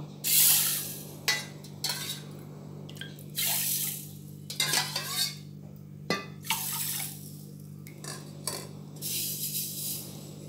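Water pours and splashes into a pot holding a bowl of washed whole moong dal, several separate bursts of gurgling pouring with short pauses between them, close by and with no voices.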